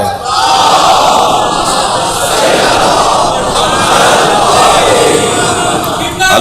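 A large crowd loudly chants salawat in unison at a religious gathering, a dense roar of many voices that swells and holds close and loud throughout.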